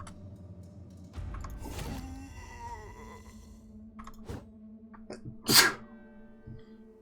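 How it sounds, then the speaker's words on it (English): A big sneeze bursts out close to the microphone, sharp and loud after a few seconds, with groaning, sighing breaths and faint background game sounds before it. "Had a big sneeze if you couldn't hear it."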